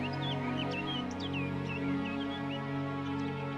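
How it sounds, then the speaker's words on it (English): Two birds in an animated fantasy show trade short chirping calls back and forth, bright and repeated over a steady background hum and drone. "You hear those two birds?"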